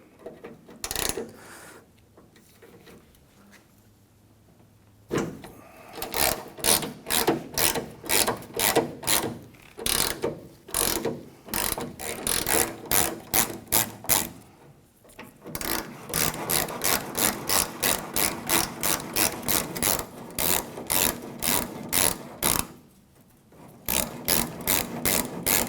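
A ratchet fitted with a T45 bit clicks rapidly in repeated bursts while removing tailgate latch bolts on a 1997-2003 Ford F-150, close and crisp, with short pauses between runs and no talking.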